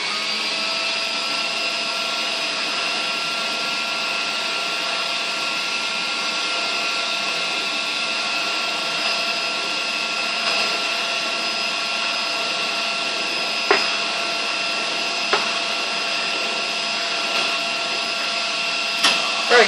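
A vintage 1940s Goblin Triumph cylinder vacuum cleaner runs with a steady, fairly quiet whine and hum, a few small knocks and clicks sounding over it toward the end.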